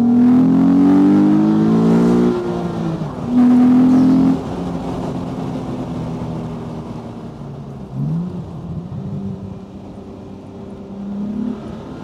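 A Morgan Roadster's engine revs hard under acceleration, loud and close, with rising and falling exhaust pitch through gear changes that settles into a lower cruising drone.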